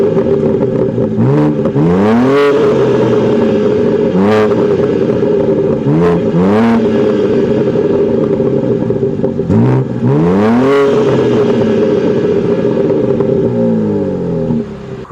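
A BMW M2's 3-liter twin-turbo straight-six B58 engine revs repeatedly over a steady idle, each burst climbing sharply then dropping back, loud and close with no talking.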